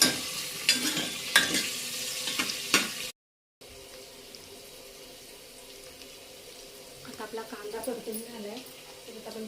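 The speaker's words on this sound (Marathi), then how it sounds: "आता चांगलं आपण परतून घेऊया" Food sautéing in a pan, with stirring scrapes and sizzle that fade after a brief gap into quieter clinks and bubbling, while a person talks at times.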